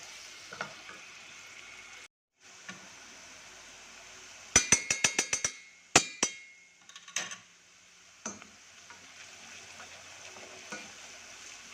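Onions sizzling in a pan in a home kitchen, a soft, steady frying hiss broken by a quick burst of metallic clinks and scrapes from stirring.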